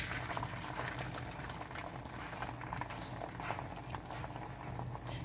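Dried salted bisugo fish frying in a pan, a dense steady sputter of bubbling oil with fine crackling pops throughout, close but at a low level.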